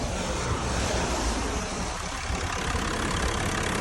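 A Mercedes Sprinter W906 with a swapped 3.2 OM648 diesel engine, in a large, heavy van body with a box and a hydraulic tail lift, idles with a steady, even low rumble that continues without a break.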